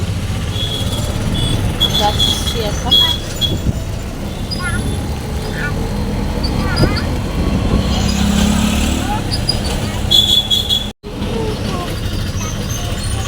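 An auto rickshaw engine drones steadily from inside the moving vehicle, with road rumble and passing traffic around it, while a person speaks briefly over the noise.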